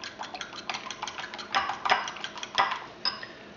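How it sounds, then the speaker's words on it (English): Egg yolk and whole egg being lightly beaten in a bowl for Battenberg cake, a quick run of light clinking taps of a utensil against the bowl, repeated in an uneven rhythm. "we can mix our egg yolk and our whole egg. Just lightly beat that"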